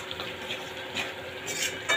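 Curry being stirred and mixed in a cooking pot, a continuous soft scraping and sloshing over a low simmering sizzle, close and steady throughout.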